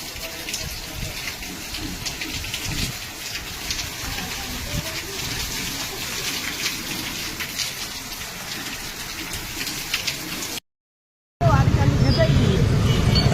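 Heavy rain in Dhoraji pours in a constant roaring wash, with a brief drop to silence near the end before the downpour returns louder.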